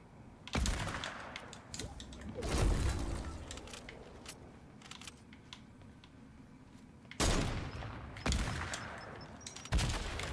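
Gunfire in a Fortnite match: several loud, sharp bursts of shots spaced irregularly, with fainter scattered pops and clatter in between, and no talk over them.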